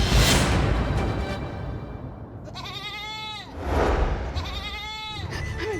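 A goat bleats close by in a few wavering, quavering cries separated by short pauses, loud against a noisy background.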